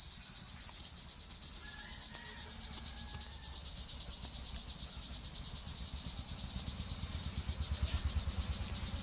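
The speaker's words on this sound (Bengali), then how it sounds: "এটা রাতের ঝিঝি পোকা ডাকতেছে।" Crickets chirp at night in a dense, steady, rapidly pulsing trill that fills the whole stretch without a break.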